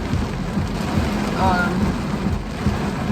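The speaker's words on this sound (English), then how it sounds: "it was like raining like insane" Constant heavy rain hisses and drums on a vehicle while driving, a dense, even wash of noise with a faint brief tone in the middle and no clear talk.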